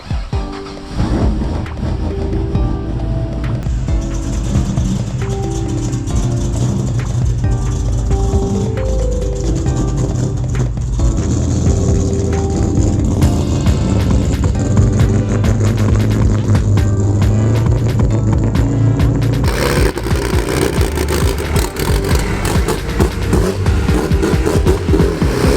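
A V8-swapped Honda Accord idles and revs inside and just outside a workshop, its heavy engine rumble loud and continuous throughout, swelling with throttle blips and shifting in character toward the end.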